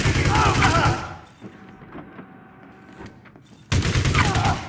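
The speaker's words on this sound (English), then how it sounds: "It was gunfire" A gunfight in the video game Elite Dangerous Odyssey, with loud bursts of weapon fire at the start and end framing a quieter stretch of scattered sharp shots and thuds.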